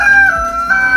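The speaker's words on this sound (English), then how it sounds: "he's getting the roosters all jealous because he's being super loud over here" Roosters crow loudly and close at a building site where a shed is being built from scratch, one long sustained call running through the moment with a brief dip before the crowing swells again.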